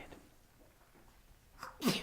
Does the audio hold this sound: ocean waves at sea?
no